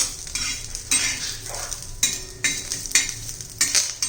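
Curry leaves stir-fried in a pan until crisp for a curry leaf chutney, giving a dry, crackling sizzle broken by regular scraping and clinking strokes of a spatula against the pan, close and fairly steady with no voices.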